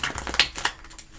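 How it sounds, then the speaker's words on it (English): Tarot cards being shuffled by hand, a dense crisp riffling and flicking of card stock with a couple of sharper snaps, close and steady. "I'm going to get another shuffle on."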